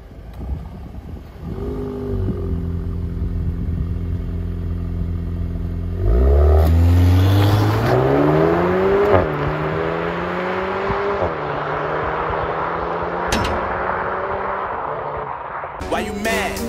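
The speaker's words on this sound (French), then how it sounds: "Allez, vas-y, petit test d'accélération." A VW Golf 8 R Performance fitted with an Akrapovic exhaust accelerating hard, engine note climbing through gears with loud close rising revs, brief dips at shifts and a few crackles, music faintly underneath.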